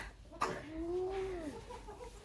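Chickens in a farmyard coop in rural Belgium, a single close, drawn-out cluck rising and falling after a brief knock, alone without talk.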